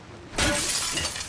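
A sharp glass shatter in The Last of Us Part II, bursting suddenly after a quiet moment and trailing off with tinkling debris for about a second, close and loud.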